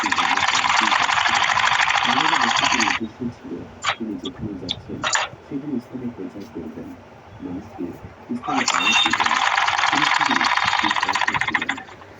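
A sewing machine stitches a panjabi in two long, steady whirring runs at the start and end, with someone talking throughout and a few sharp clicks in the pause between runs.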